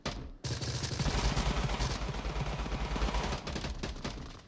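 Sustained automatic rifle fire from AK-12 and AK-104 weapons in the VR shooter Onward, loud rapid bursts crackling almost continuously after a brief quiet start, with no talk.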